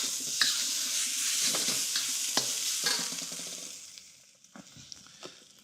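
Grains stirred and fried in a little oil in a pan, a bright continuous sizzle with scraping spoon strokes and lumps being broken up, close and steady before quieting toward the end.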